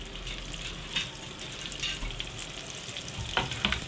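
Garlic sizzles in melted butter in a pan, a continuous close crackle with occasional stirring scrapes and brief clinks, no voices over it.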